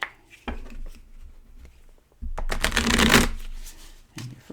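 Tarot cards being shuffled by hand, a soft riffling burst followed by a longer, louder run of rapid papery flutters, close and with no talking.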